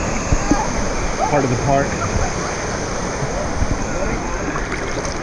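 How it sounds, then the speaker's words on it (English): Spring-fed water of the Comal River rushes steadily at a water park tube ride, a loud continuous wash of flowing water with a person briefly speaking over it. "Alright, this is the Comal River right here."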